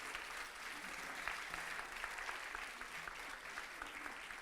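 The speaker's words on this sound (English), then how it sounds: "Let's give another round of applause to our guest speaker for today, Professor Mavalvala." Audience applause for a guest speaker at the close of a university lecture, a steady, moderately quiet patter of clapping sustained throughout with no voices over it.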